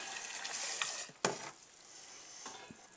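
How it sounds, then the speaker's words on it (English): Three pounds of sugar stirred into dark red hibiscus flower juice for wine, a soft continuous swishing and grainy scraping with one sharp knock against the container, close and fairly quiet, with no talking. "I'm just going to mix in this 3 pounds of sugar"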